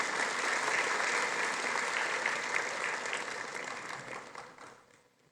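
A graduation audience of new social work graduates gives a steady round of applause that holds loudly for several seconds, then fades away toward the end, with no talk over it.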